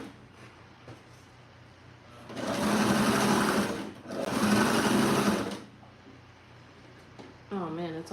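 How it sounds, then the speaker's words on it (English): A household sewing machine stitches in reverse, then forward, in two loud, steady whirring runs with a brief pause between them, while someone talks quietly before and after. "So just gonna reverse back the stitching, and then we're gonna go straight back down."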